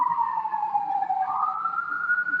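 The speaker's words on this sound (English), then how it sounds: "Pardon the sirens in the background." An emergency vehicle siren wails in the background on a Baltimore City street, a steady rising and falling tone heard from a distance and carrying on without a break, with no one speaking.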